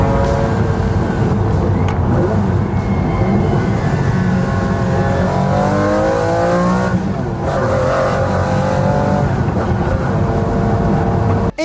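Exotic engine roaring hard and revving through the gears, a loud, continuous high-pitched wail that climbs and drops with each shift, close and alone with no voices.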